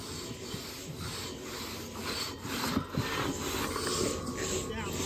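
Two-person crosscut saw strokes rasp steadily through timber in a Jack and Jill two-cut drag race at a Cornish, New Hampshire timber sports event, a continuous rhythmic rubbing amid crowd noise and commentary.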